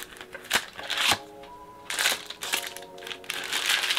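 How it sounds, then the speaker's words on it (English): Film pack being loaded into a Polaroid SX-70 instant camera, with close crinkling of packaging, plastic rustling and a few sharp clicks and snaps, handled in short bursts without speech. "let's load up the camera now and we can get shooting"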